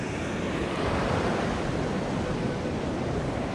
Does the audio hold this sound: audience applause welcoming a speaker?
no